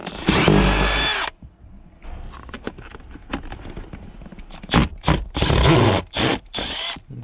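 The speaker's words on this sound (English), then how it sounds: "Take your screwdriver and remove all 4 of them as I'm doing." Screwdriver removing Phillips screws from a cup holder in a 2002-2006 Toyota Camry center console, a loud power-tool whir up front, then small scrapes and clicks, and later short whirring bursts close by.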